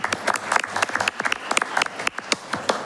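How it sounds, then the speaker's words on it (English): A small audience at a public budget hearing gives scattered, uneven applause. Distinct individual claps sound close and irregular for about three seconds. "I think all of you deserve a round of applause for coming and being in this meeting tonight"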